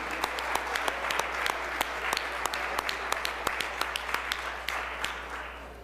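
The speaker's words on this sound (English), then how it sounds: "So let's all give them a round of applause." A round of applause fills the Mississippi House chamber at the Capitol, dense crowd clapping with sharp individual claps standing out, steady and fairly loud over a low constant hum, fading slightly at the end.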